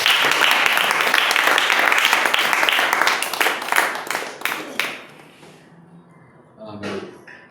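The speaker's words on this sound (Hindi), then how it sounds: "फिर से ताली दे सकते आप।" A church congregation applauding during a sermon, loud dense clapping that thins out and fades into scattered claps, followed by a brief voice.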